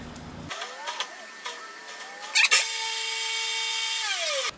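A belt grinder runs after its belt tension has been eased, spinning up with a brief loud burst and then holding a steady whirring hum before cutting off at the end, with lighter clicks and handling noise earlier.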